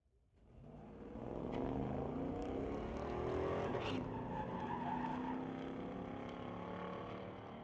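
A Honda Civic and a 1500 pickup launch side by side at an ET series drag race, engines swelling from quiet into a sustained roar with tire squeal, holding loud before easing slightly.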